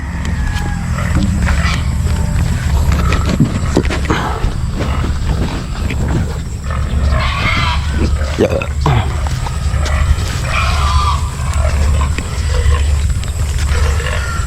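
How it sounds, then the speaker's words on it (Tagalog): A pig being caught and taken from a farm squeals and grunts loudly and near-continuously, harsh and roaring, with shouting people and scuffling around it. "Kumukuha ng baboy dito sa amin."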